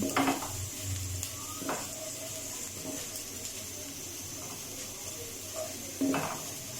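Cumin seeds are stirred into hot oil in a pan for chicken egg fried rice, giving a low, steady sizzle with a few spoon-on-pan scrapes and clinks, and no voices.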